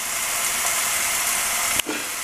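A ribeye steak sizzles on a George Foreman grill with a steady, dense hiss, broken by a brief knock near the end; no voices.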